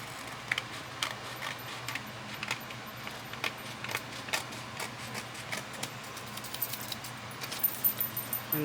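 Paper being trimmed along the edge of a music-sheet page for a junk journal signature, a run of small close crisp snips and rustles with light tapping, no talking.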